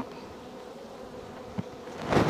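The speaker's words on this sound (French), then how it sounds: "pour pas laisser les abeilles à l'air comme ça pendant un petit moment" A low, continuous hum of many honeybees buzzing close by at an open hive, with a soft rustle and a louder swell at the end.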